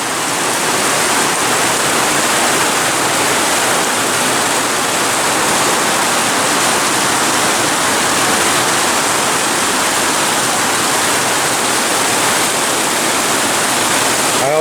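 Heavy rain pours in a dense, unbroken roar of even loudness, close and steady throughout, with no voices.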